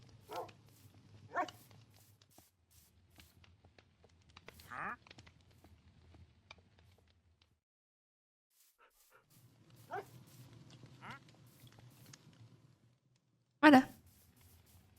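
Dogs in a video game give a few short scattered barks and yelps between quiet gaps, one sharper bark near the end, with someone speaking softly at times.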